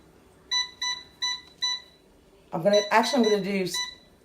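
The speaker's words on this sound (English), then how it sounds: "So I'm gonna put them in the air fryer, and I'm gonna, let's see, turn it on." Power XL air fryer control panel giving four short, even electronic beeps while being set, followed by a person talking nearby.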